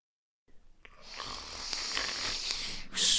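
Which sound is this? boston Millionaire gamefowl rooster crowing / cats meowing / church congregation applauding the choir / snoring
snoring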